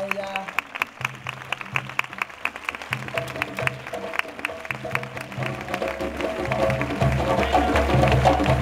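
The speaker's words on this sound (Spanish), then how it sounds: "Por favor, un fuerte aplauso para ella." Audience applause at a concert for a singer from Dakar, Senegal: steady sustained clapping from a crowd that swells louder toward the end, with rhythmic music pulses running underneath.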